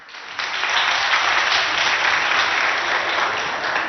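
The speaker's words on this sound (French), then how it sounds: "Est-ce qu'on peut applaudir pour ça?" Applause from a school audience after quiz scores are read out between two schools, La Renaissance and La Souche, in Abéché: a steady, dense wash of clapping that starts abruptly and holds at even loudness throughout.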